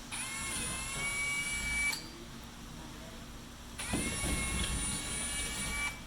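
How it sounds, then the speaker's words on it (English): A power drill bores holes for an accessory mounting plate in two loud, steady high-pitched whining bursts of about two seconds each, separated by a short pause with lower background noise. "Drill the last 3 holes, making sure that the plate is even to the line on the bottom."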